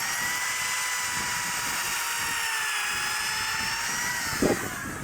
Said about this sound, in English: All right, so I would turn the drill on